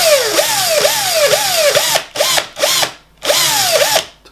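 A power drill twisting wire to straighten it whirs in repeated short bursts, its pitch swooping down and up each time, close and loud, with brief pauses near the end.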